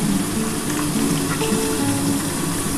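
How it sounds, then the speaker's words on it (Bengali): Pabda fish fries in hot oil under a lid, a loud, steady sizzle with scattered pops and spatters and a low background hum. "পাবদা মাছটা কিন্তু আমি ঢাকা দিয়ে ভাজছি কারণ ভীষণ ফাটছে"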